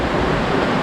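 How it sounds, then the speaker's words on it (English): Clear, fast-flowing mountain river water near a small bridge in Turkey, a loud, steady rushing wash close to the listener with no voices over it. "the water's very, very clear and very fast flowing"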